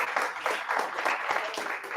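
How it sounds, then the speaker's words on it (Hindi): An audience at an awareness programme event in Jabalpur breaks into brisk, lively applause, a busy close burst of hand claps with slight surges, and no voice over it. "एक बार और जोरदार तालियां बजा दीजिए।"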